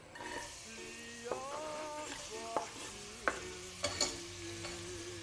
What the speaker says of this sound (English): Try not to burn the onions, we just need them sweated.